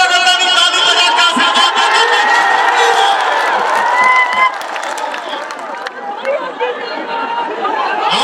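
A large crowd at a Pawan Singh stage show in Sasaram, loud and close, with cheering, whoops and excited chatter over scattered clapping, the roar easing slightly partway through.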